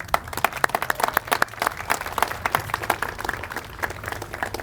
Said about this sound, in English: I want to give those officers a round of applause too